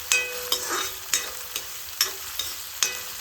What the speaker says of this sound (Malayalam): ഇത് നന്നായിട്ട് വഴറ്റണം